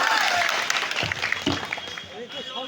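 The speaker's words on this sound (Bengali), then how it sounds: "জোরে একটা তালি দেন" An audience at a political meeting applauds a speaker with a burst of dense clapping that starts loud and thins out, with voices talking over the fading applause.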